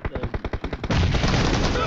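Rapid automatic gunfire from a mobile battle-royale shooter game, loud bursts of close shots giving way to a dense sustained barrage.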